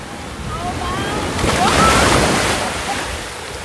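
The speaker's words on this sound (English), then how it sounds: "A little wave action." Ocean waves wash in on a white-sand beach with big granite boulders in the Seychelles, a broad rushing swell that rises and fades, mixed with wind buffeting the microphone.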